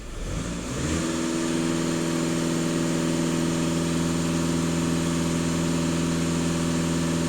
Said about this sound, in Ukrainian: А зараз даю газ в пол. Емітація, що автомобіль їде.